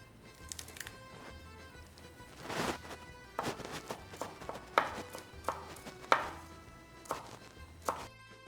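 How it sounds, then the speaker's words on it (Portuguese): Knife chopping fresh parsley on a cutting board in a home kitchen, a series of irregular, sharp close taps spread across the clip with quiet pauses between, no talking. "cortar um pouquinho de salsinha"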